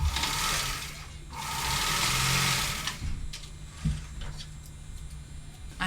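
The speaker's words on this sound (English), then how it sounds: "I'm going to sew from the blue dot to the other blue dot." A sewing machine stitches along a fabric bag seam, its steady motor whir running loud in two sustained bursts, with quieter stretches and a few clicks between them.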